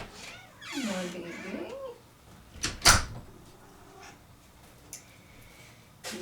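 A pet cat meows loudly once as it is let in through a door, followed by a sharp knock or door clunk and quiet room tone.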